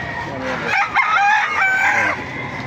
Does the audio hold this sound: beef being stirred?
no